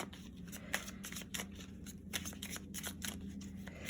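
A deck of tarot cards being shuffled close by, with quick, rhythmic riffling bursts of papery flutter and snaps repeating steadily.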